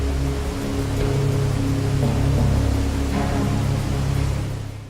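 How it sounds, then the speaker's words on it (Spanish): Roaring Trümmelbach waterfall in the Lauterbrunnen valley of the Alps, a steady, dense rush of falling water with a low rumble underneath, swelling slightly then easing, with no voices. "se encuentra el sonido de una de las cascadas más ruidosas y espectaculares de los Alpes"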